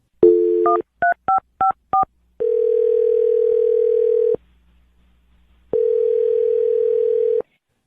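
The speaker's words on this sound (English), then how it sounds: "I'm going to dial James' phone number right now" A series of quick dialing beeps in a short rhythmic burst, followed by a steady, loud dial-type tone that stops, pauses, then sounds again.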